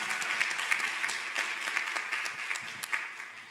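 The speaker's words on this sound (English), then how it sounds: "Let's give them all another big round of applause" A round of applause for a panel of speakers at a maternal health symposium, steady dense clapping from an audience filling the room without a break, moderately loud and even throughout.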